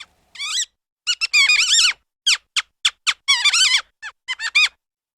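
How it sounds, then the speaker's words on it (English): A cartoon mouse squeaking loudly in a quick run of high, chirpy bursts, some short and clipped, others strung together in fast wavering trills, with brief gaps of silence between. "Who's squeaking?"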